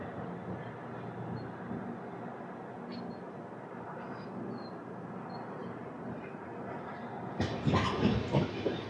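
Padmavati Superfast Express (Tirupati–Secunderabad) pulling away and running along single-track rails, a steady low rumble of wheels throughout that grows louder and rougher with clattering bursts near the end.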